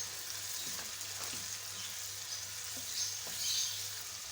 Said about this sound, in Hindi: दो मिनट हो चुके हैं इसको फ्राई होते हुए